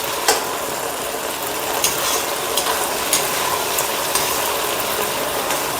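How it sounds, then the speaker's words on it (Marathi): Potato pieces, unpeeled and chopped, frying in oil in a pan: a steady broadband sizzle runs throughout with occasional soft pops and crackles, fairly close and even, with no voices. "तर आता आपले आलू थोडे शिजत आलेले आहे."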